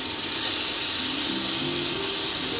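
Hilsa fish frying lightly in mustard oil, a steady close sizzle and hiss running throughout with no talk.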